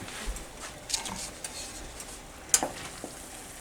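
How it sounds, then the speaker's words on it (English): Small Kraft macaroni pasta is stirred in a pot of boiling water, faint scraping and bubbling patter with a few soft clinks of the spoon against the pot. "we give this a stir and cover it up"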